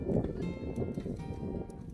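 A horse moves around a pen at a working cow horse clinic, with soft hoof clops and shuffling on the ground while working a cow, faint and brief.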